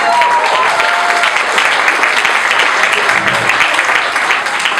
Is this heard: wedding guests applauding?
yes